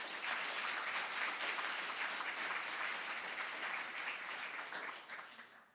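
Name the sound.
audience applause at a school groundbreaking ceremony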